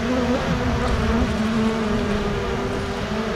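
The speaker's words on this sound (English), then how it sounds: "There's just bees on it now." Honey bees buzz steadily and loudly throughout a first hive inspection after a package install, a dense, continuous droning swarm close by with no talk over it.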